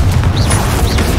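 A Confringo blasting spell detonates in the Hogwarts Legacy video game, a loud, sustained booming burst with a rumbling low end and whooshing magical sweeps, lasting about a second.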